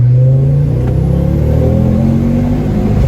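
A 2007 Ford Focus ST accelerates hard on a slip road, its engine note rising steadily in a loud, continuous in-cabin roar with no talking.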